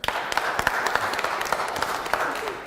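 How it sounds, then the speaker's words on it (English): A crowd claps, a dense patter of many hands applauding continuously at moderate loudness. "Everybody give your principal a round of applause."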